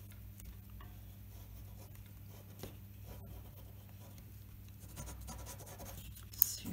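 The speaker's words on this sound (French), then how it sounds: "je vais le transférer avec le calque" Pencil tracing over tracing paper to transfer a drawing, a soft continuous scratchy rubbing with small strokes, close and quiet, over a low steady hum, no talk.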